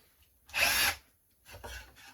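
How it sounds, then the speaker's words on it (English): A long drill bit bores into hard walnut wood at a steep angle in two bursts, a loud sustained grinding whine followed by a shorter, quieter stretch of drilling. "I'm using a really long drill bit to make it a little bit easier and to drill in a steep angle."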